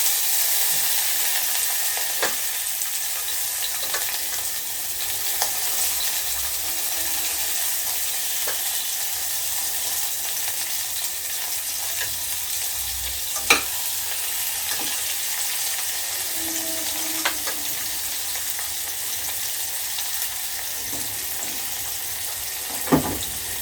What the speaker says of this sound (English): Now we're gonna add some onions and green onions.